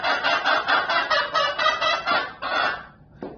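Chickens in a backyard flock call in steady, overlapping bursts of raspy, honking clucks that fill the scene, close and fairly loud, then thin out near the end with one brief final squawk.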